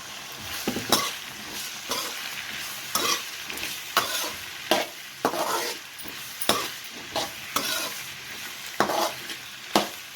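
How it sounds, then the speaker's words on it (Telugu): Mushrooms fry in a pan with a continuous hiss of hot oil, while a spatula scrapes and clacks against the metal in a regular rhythm of strokes roughly every second. "తర్వాత మష్రూమ్స్ కూడా వేసుకొని ఫ్రై చేసుకోవాలి"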